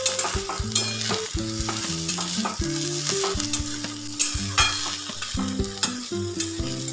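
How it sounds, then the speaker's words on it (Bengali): Eggplant and neem leaves fry together in a pan while being stirred, giving a steady close sizzle broken by repeated scraping stir strokes, with background music playing throughout. "মিশিয়ে আরেকটু ভেজে নেব"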